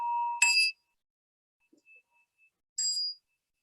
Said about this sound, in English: that might have just been me listening to the bell